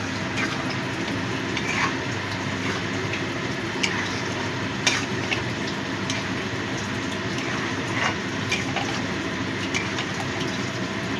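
A spoon stirs and mixes soy chunk (Nutrela) curry in a pan, producing a steady bubbling sizzle with irregular scraping clicks and taps from the utensil, close and fairly even throughout.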